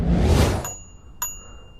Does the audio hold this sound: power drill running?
no